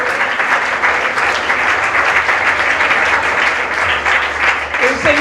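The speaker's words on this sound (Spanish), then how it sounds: "Dale un aplauso al Señor." A congregation at a Christian preaching service claps together, loud and sustained for several seconds, with a voice rising briefly near the end.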